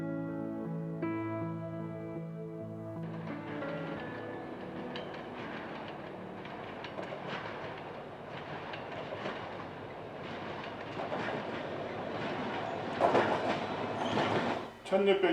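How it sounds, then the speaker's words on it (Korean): A freight train rolls through Pyeongeun Station, a disused small rural stop on the Jungang Line, its horn-like tones opening before a sustained rumbling clatter of wheels builds and grows louder near the end. "이제는 화물 실은 기차 몇 대만 지나갑니다."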